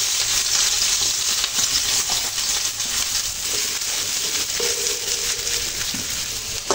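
Chopped onions fry in hot oil in a pan just emptied of fried bata fish, giving a steady, close sizzle with soft crackles and occasional stirring scrapes throughout, no voices.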